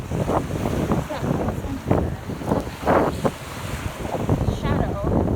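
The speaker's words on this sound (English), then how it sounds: "It is extremely windy." Strong, gusting wind on a Sanibel Island beach at night buffets the microphone in loud, uneven bursts, with surf-like rushing noise throughout.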